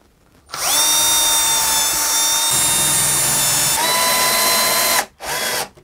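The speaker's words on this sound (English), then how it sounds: "I will start by screwing the two pieces of plywood together at one side." A power drill drives screws joining two pieces of plywood, a loud close whine running steadily for several seconds with a shift in pitch midway, then a brief pause and a short final burst; no talking.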